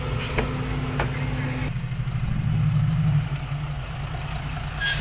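A dump truck loaded with sand idles at a sand pit before towing a stuck water truck. Its diesel engine gives a steady, close, heavy rumble with a slight shift in tone partway through.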